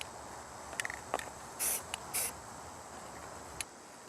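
Short bursts from a spray paint can laying camouflage lines onto a rifle, a few brief hissing puffs close by with quiet pauses between, alone with no talk.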